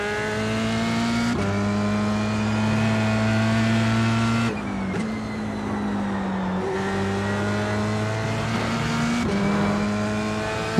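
A race car engine in a sim racing video game holds a loud, steady high drone, with sharp pitch drops at gear shifts as the throttle is worked carefully, close and continuous with no talk.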